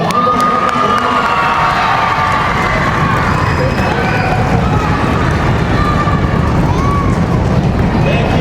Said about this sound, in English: Let's give William one more round of applause.